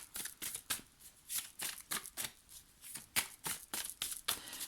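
Tarot cards are shuffled by hand in quick, repeated riffles, a rhythmic run of soft papery bursts close to the listener with brief pauses between them.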